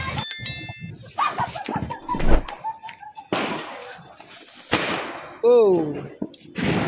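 Diwali firecrackers burst close by in a series of sharp pops and bangs scattered over several seconds, with whistles and chirping tones between them, while a man exclaims briefly.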